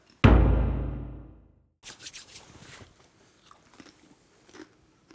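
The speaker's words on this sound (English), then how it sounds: "By the time I'm done chewing, you'll be done talking." A single loud crunching bite into a Doritos tortilla chip, close up, followed by a pause and then a run of softer, irregular chewing crunches.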